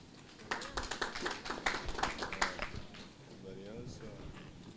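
Audience applause for the Guatemalan delegation at an international Garifuna conference, a burst of claps lasting about three seconds over a murmuring crowd, then fading as a voice speaks over it.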